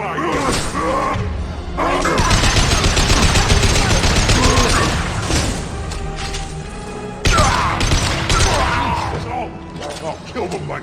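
Sustained sci-fi gunfire from Mass Effect 2 in a firefight, with rapid bursts and clattering shots hammering almost continuously, briefly dropping out midway before resuming loud, with voices heard amid the shooting.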